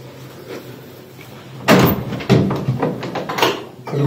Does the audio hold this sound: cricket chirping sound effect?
no